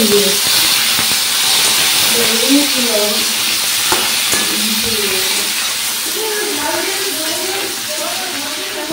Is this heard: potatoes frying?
yes